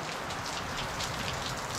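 Rain falls steadily, a dense even hiss of drops hitting surfaces close by with no pauses and no voices.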